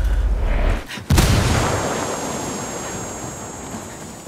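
A frag grenade explodes in the tactical shooter Ghost Recon Ghost War, one loud sudden blast followed by a long rumbling decay and a faint high ringing tone.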